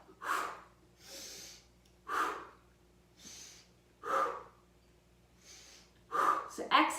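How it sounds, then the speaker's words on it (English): Rhythmic breaths during a seated knee-tuck ab exercise, sharp exhales alternating with softer inhales at a steady pace, close and fairly quiet, with louder, quicker breaths near the end. "So exhaling every time you bring the knees in."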